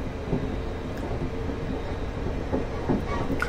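A Class 380 electric train picking up speed on the rails, a steady broadband rumble with faint, irregular wheel clicks throughout, close and continuous with no talking.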